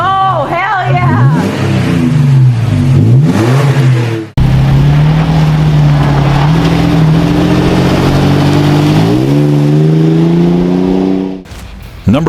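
A Toyota Tacoma 4.0 V6 with an aftermarket exhaust revs hard, the pitch climbing and dropping in quick blips, then holding a loud sustained drone that rises again, close and loud with voices talking over it.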